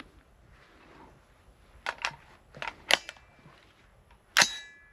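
An AR-15 rifle chambered in 7.62x39 gives off several sharp, cracking reports at irregular intervals against a quiet outdoor background, the last one the loudest with a short ringing tail.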